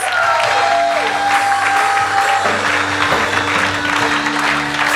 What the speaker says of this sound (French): On va les applaudir bien fort, Église.